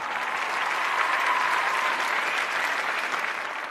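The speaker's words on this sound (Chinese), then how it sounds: "掌声送给来自乌兹别克斯坦的" A live audience at a flyweight cage-fighting tournament claps steadily as a fighter is introduced, a dense, even wash of applause filling the hall for the whole stretch.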